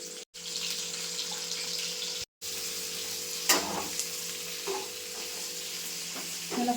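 Onion petals sizzle steadily in a pan over a full gas flame, a constant close frying hiss with a few brief clicks and stirring knocks and two short dropouts, no voices.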